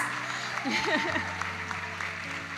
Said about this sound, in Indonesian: Sekali lagi kita beri tepuk tangan paling meriah untuk buku menembus garis batas